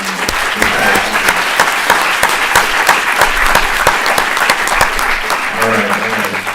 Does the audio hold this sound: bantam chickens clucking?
no